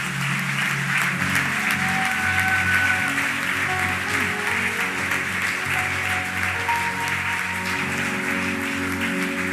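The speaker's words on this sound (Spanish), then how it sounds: "Démosle un gran aplauso a nuestro Dios." A church congregation applauds at length, broad sustained clapping that fills the room evenly and stays steady throughout, with faint sustained tones from instruments beneath.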